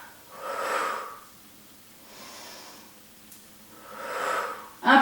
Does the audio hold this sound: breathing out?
yes